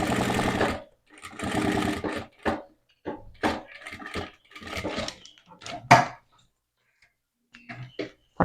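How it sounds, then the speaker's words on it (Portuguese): Sewing machine stitching fabric in short bursts, a fast close mechanical rattle running in several runs separated by brief stops and small clunks, with no speech over it. "Bem seguro, faça toda essa costura."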